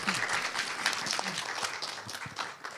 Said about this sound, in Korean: 큰 박수로 최세진 책임님을 맞이해 주시기 바랍니다